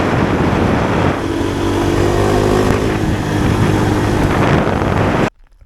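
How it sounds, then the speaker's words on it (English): A 2025 Kawasaki KLX 300R motorcycle ridden at speed on a straight road, a loud continuous engine drone with its pitch slowly rising under heavy wind rush, cutting off abruptly near the end; no talking. "I'm gonna do a top speed test on the Kawasaki KLX 300R"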